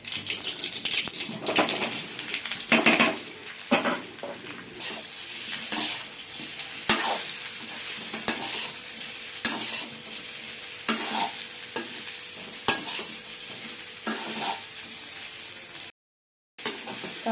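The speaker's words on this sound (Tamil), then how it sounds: "எண்ணெய் சூடேறிச்சு. இப்போ கடுகு சேர்த்துக்கலாம்." Mustard seeds and cumin sizzle in hot oil for a Tamil seeralam tempering, giving a continuous close hiss broken by frequent sharp pops and crackles, with a brief silence near the end.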